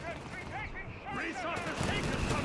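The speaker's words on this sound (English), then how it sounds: "We got mortars out there as well here for Blind Guardian, providing him with some light artillery support here." Mortar and light artillery fire from Company of Heroes 3 crackles in rapid bursts of distant thuds and pops, heard under continuous speech.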